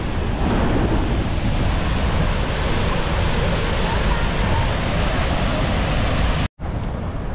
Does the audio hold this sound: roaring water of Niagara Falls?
yes